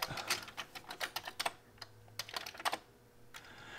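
Commands typed on a Commodore 64 keyboard: a run of close, crisp key clicks in an uneven rhythm, pausing briefly before a final few taps.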